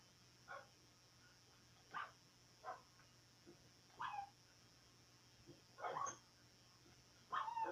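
Four puppies in the Minecraft video game whimper and yip in short, repeated bursts spaced across the stretch, fairly faint against a steady background hum, with no talking.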